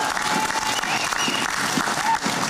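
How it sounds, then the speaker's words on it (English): Audience applause at a barbecue legends awards ceremony in 2012, a dense, steady wash of many hands clapping that holds at an even level throughout without letting up. "Have a nice round of applause."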